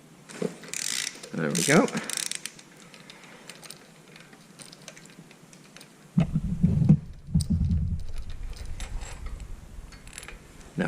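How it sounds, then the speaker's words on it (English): A ratchet wrench with a 7/8 deep socket and extension turns to remove a spark plug, giving clicking ratchet bursts and mechanical rattles that come and go, while a voice briefly speaks. "I've got a little extension, 7/8 socket and a extension, and then our ratchet"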